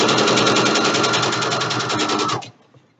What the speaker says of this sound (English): Go ahead and stitch the other long edge right down.